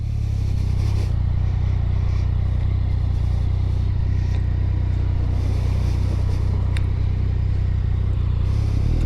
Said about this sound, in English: get the bike going, and we are ready to rock and roll